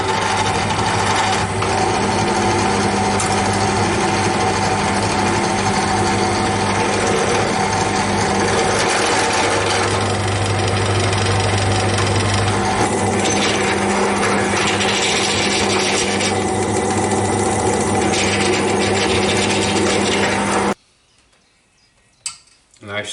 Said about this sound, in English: let's drill some holes in these things.